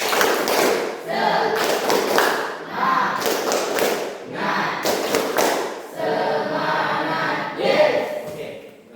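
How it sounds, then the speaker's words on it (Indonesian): Classroom of students doing a rhythmic spirit clap, bursts of loud group clapping and thumping in a patterned beat with voices chanting along between the claps. "Tepuk semangat."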